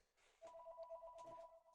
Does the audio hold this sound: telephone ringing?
yes